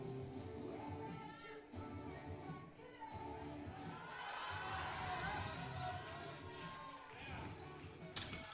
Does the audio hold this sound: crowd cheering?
yes